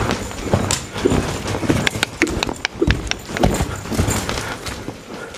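A horse's hooves clip-clop in an irregular stream of sharp, close strikes over ground, with a low background rumble and no talking.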